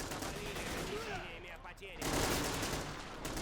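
Gunfire crackles in a Men of War Assault Squad 2 battle at a Cold War coastal fortress, North Korea against the USSR, with bursts of shots and rumbling fire mixed under a voice.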